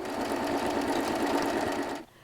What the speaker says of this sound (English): So let's go to the sewing machine and do that next.